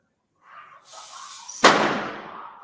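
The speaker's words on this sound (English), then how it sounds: "it's Diwali and you can hear a lot of fireworks" Diwali fireworks go off outdoors, a low rushing hiss building up before one sharp firecracker bang that rings out and fades, heard from indoors.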